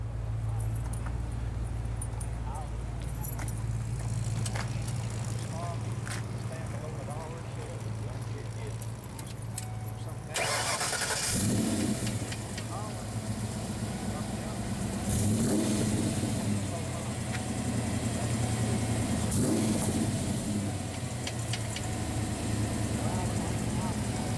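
A 1993 Ford Mustang Cobra engine cranks and fires up after an idle stretch, then revs in several loud surges, with people talking over it.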